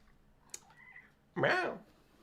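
A house cat meowing indoors near a 3D printer setup, one clear drawn-out meow after a soft chirp, close and fairly quiet with a faint voice before it.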